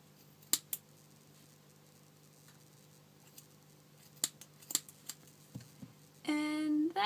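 Scissors trim leftover yarn strings from a small pompom in a few sharp, separate snips spread over several seconds, close and quiet, before a voice starts speaking at the end.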